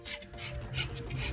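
Sandpaper rubs across a tire sidewall in quick back-and-forth strokes while the surface is prepped for a decal. The scrubbing is close, soft and raspy.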